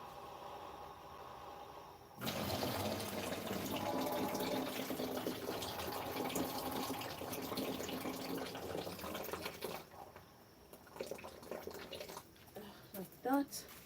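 Rice is washed in water in a home kitchen, with a steady splashing, pouring rush that starts suddenly and runs for several seconds, then gives way to softer sloshes and drips, faint and close, with a voice speaking at times.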